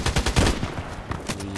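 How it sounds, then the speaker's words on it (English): An AEK-971 rifle fires in the video game Contract Wars, with loud, close, rapid sharp reports that rattle one after another. "So, was a single shot."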